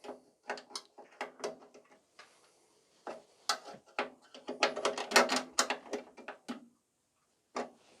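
A spanner tightens a small 10mm nut on an Allett Atco cylinder mower cable adjuster, close quiet metallic clicks and ratcheting taps in irregular bursts with brief pauses.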